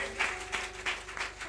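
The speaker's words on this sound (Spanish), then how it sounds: "dale ese aplauso una vez más al Rey de Reyes" A church congregation applauds, the clapping swelling in several loose rhythmic bursts, moderately loud and a little distant, over a low steady hum.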